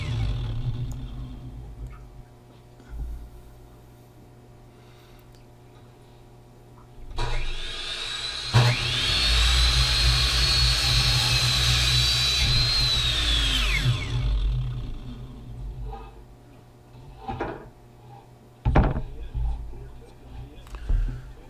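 A small miter saw cuts boards for fishing boat modifications, spinning up to a loud whine that holds for several seconds and then winds down, with quieter shop noise and someone talking before and after.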